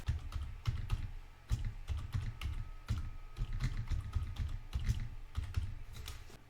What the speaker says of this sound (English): we type Archlabs-installer